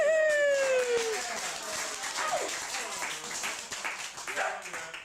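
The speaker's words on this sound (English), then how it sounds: "Give him a big round of applause" Guests at a children's birthday magic show clap in a brief, moderate burst, mixed with chatter and a voice, while a dog-like yelp sounds at the start.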